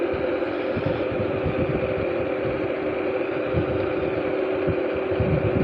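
A Gyroor C1S electric sit-down scooter riding in third speed on flat ground, giving a steady motor whine over rough rolling clatter from the wheels, continuous and close.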